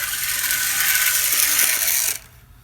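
A Tyco HO scale switcher model locomotive runs on track with a steady, loud mechanical whir and rattling gear noise, close up, which cuts off abruptly near the end.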